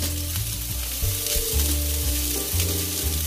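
Plain unseasoned ground beef is tossed into a frying pan with onions and peppers for chopped cheese burgers, setting off a loud, continuous close-up sizzle with a few stirring shifts and no voices.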